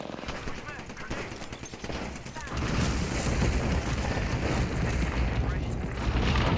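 Grenade explosion in the Apex Legends battle royale game, a loud broadband blast at about 2.5 seconds that gives way to sustained rumbling gunfire and combat noise.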